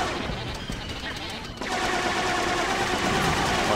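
Sustained turret gunfire in Star Wars Battlefront, a dense rapid rattle of blaster shots that briefly dips and then swells louder and thicker after a second and a half, with a little talk mixed in.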